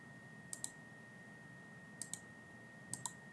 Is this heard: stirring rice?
no